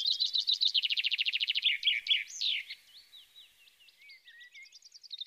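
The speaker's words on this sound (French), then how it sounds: "comme c'est merveilleux d'entendre les oiseaux chanter" Birds sing in spring, one bird close and clear giving rapid trilled phrases and then sliding, varied notes, with softer twittering running under it.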